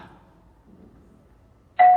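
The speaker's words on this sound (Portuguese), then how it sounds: "Mais isso ainda, a campainha." An electronic doorbell rings in a stage musical, starting abruptly after near silence as a loud, steady tone that carries on to the end.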